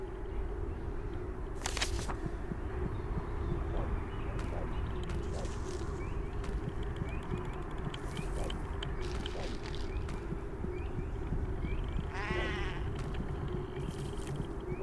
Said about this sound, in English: I heard a sheep.